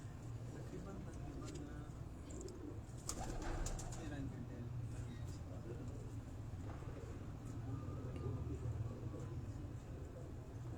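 Pigeons on a rooftop in Golra Sharif give soft, low coos amid outdoor ambience, with someone talking and occasional sharper bird sounds and handling noises mixed in.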